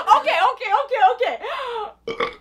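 A loud, drawn-out burp from a man, croaking and wavering over about two seconds, then a short second belch. Heard up close during a lively reaction to a K-pop music video.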